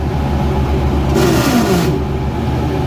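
A John Deere tractor engine runs steadily nearby, its loud mid-pitched drone briefly rising as if revving, with no talking over it.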